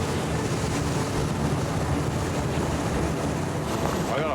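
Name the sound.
strong wind blowing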